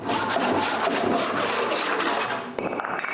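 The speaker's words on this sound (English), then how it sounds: "But on the other side, I need a handsaw." Handsaw cutting through wood for a wooden bandsaw base, with quick regular strokes heard up close and fairly loud before the sawing breaks off near the end.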